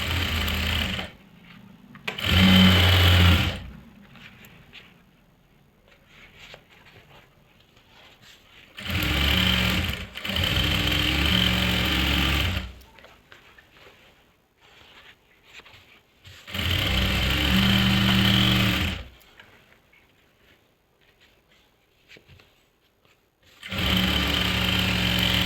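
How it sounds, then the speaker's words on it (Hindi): A sewing machine stitches salwar fabric in four long bursts of fast, steady whirring, each lasting a few seconds, separated by quiet pauses, close up with no talking. "तो ये मैंने एक सिलाई लगा ली।"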